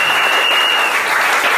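A church congregation applauds loudly and steadily to acclaim the king of kings, a dense wash of clapping that stays close and sustained throughout.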